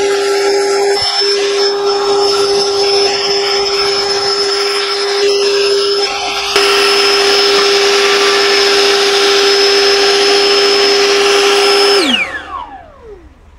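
A YARDCARE cordless battery leaf blower, five speeds plus turbo, roars close and steady with a high whine, shifts up in power midway, then cuts off and winds down to quiet.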